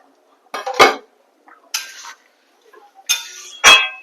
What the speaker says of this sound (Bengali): ভাজা চিংড়ি মাছগুলো দিয়ে দেবো।